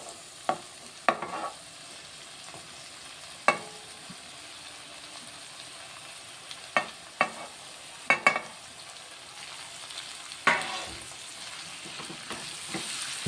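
Tomatoes and green chillies dropped into a hot pan with fried fenugreek leaves, a low steady sizzle broken by several sharp scraping stir strokes and clinks at irregular intervals, close up, with no talk.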